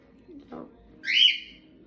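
A small flock of pet birds lets out one loud, shrill call of about half a second, preceded by a couple of softer chirps over a quiet room.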